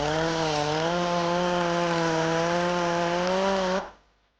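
A power sander sanding vinyl off a Monte Carlo car panel makes a loud, steady whine with a strong buzzing motor tone, running alone for several seconds, then cutting off abruptly.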